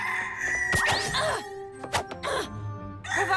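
A cartoon rooster crows loudly in sweeping, rising-and-falling calls, mixed with clucks and squawks and a few sharp bursts, close and animated.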